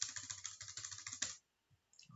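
Quick run of keystrokes on a computer keyboard, close and crisp with an even clicking rhythm, then a sudden stop into near silence with one or two faint taps.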